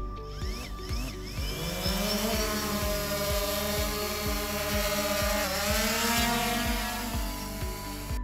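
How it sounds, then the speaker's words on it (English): A drone flies toward its first mission waypoint, giving a loud, close, continuous motor whine with steady buzzing rotor harmonics that rise and shift in pitch, alone without talk. "The drone will fly to the first waypoint and then start taking visual images."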